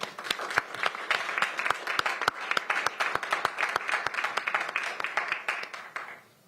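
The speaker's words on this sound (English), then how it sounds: "Please give them a round of applause." Audience members at a Pierce County Council meeting clap in a room, giving sharp, distinct hand claps that hold steady for several seconds and then taper off at the end.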